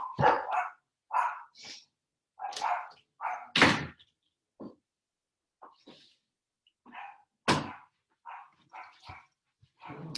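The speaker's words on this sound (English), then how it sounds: "Sorry, my dogs are loud." Dogs bark repeatedly in irregular bursts, some sharp and loud, others softer, with brief silent gaps between them.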